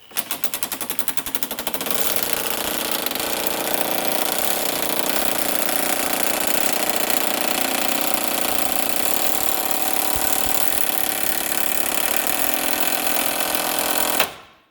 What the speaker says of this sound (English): just hammer it slowly, don't be too aggressive